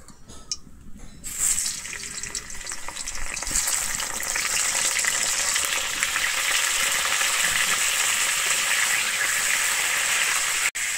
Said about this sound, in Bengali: আমি ফুলকপিটা কিন্তু এখানে লাল করে ভেজে নেব।